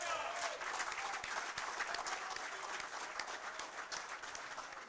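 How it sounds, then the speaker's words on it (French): Audience applauding steadily and loudly at a philosophy café event in Haiti, a dense sustained wash of many hands clapping throughout. "ma mère Baïna Bello, que je vous demanderai d'applaudir fortement"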